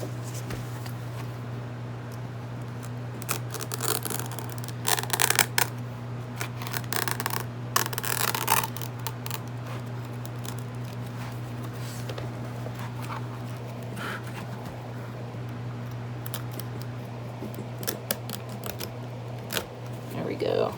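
Scissors cut through oversize book pages in intermittent rasping snips and rustles over a steady low electrical hum, close and fairly quiet.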